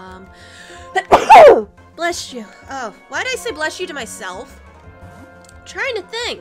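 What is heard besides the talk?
sneeze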